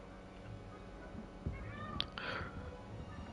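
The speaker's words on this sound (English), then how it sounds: "I think my cat wants in here." A cat meows faintly from a distance at a door, wanting to be let in, a short rising call heard over a steady low background hum in a quiet room.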